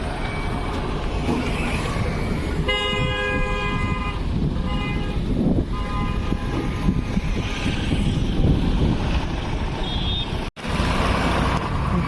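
A band's vehicle pulls away. Repeating electronic reversing beeps sound over a loud, constant wash of engine and outdoor noise.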